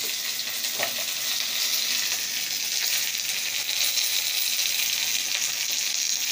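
Cumin seeds frying in hot oil in a home cooking pan: a steady, close hiss and crackle of sizzling oil runs throughout at an even level, with a faint clink near the start.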